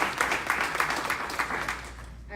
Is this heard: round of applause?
yes